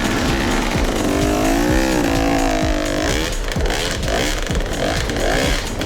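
An enduro motorcycle picks its way over logs at low revs, the engine burbling and rising in short bursts while knocks and clatter from the bike and logs punctuate the ride.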